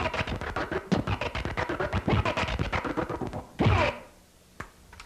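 Rapid choppy scratching of a vinyl record, the sound cut on and off in quick bursts, followed by a short swipe and a single thump.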